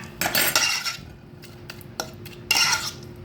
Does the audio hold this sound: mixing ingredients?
yes